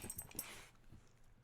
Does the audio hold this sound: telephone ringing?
no